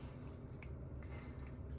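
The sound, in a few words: scooping mozzarella cheese curds out of the whey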